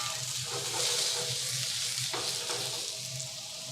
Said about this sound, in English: We'll put some oil in the pan and then we'll add the butternut squash. Just give it a little mix around